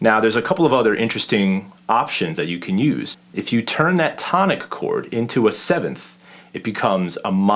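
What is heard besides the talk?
No everyday noises stand out.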